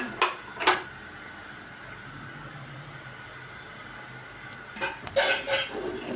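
Sugar and cardamom stirred into boiled milk: a spoon clinks against the pot twice, then a quiet stretch, then a cluster of scraping metal clinks near the end.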